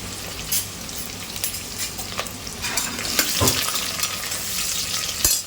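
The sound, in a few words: onions frying in pot for mutton pulao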